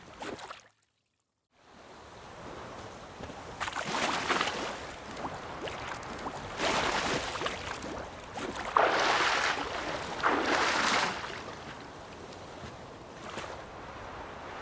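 A wooden boat moves across lake water in The Witcher 3, with soft lapping and splashing swells rising and falling over a steady watery wash.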